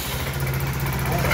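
A Sym Joymax 300 scooter engine, recently repaired for a head gasket and coolant fault, idles just after starting with a steady low rumble close by. Nothing else competes with the even engine note.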